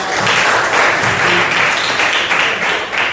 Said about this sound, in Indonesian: Bisa kasih tepuk tangan dulu untuk Wahyu.